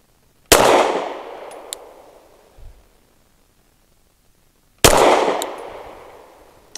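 Two sharp, loud shots from a Girsan Witness 2311 pistol are fired seconds apart on an outdoor range. Each crack is followed by a long, fading echo, and a faint clink can be heard between them.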